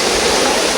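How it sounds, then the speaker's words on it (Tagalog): San Jose Falls in Tandag City pours as a loud, steady broadband rush of falling water, continuous and close, with no voices. "Beautiful falls of Tandag City."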